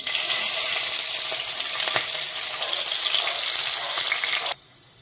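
Green chillies fry in hot oil with mustard seeds, asafoetida and cumin, a steady, loud, bright sizzle held close for several seconds with a few faint clicks, then cutting abruptly to near quiet; nobody speaks.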